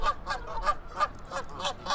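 Canada goose at a zoo honking in a steady series of about seven loud, nasal calls, spaced roughly evenly and close by, with no talk over them.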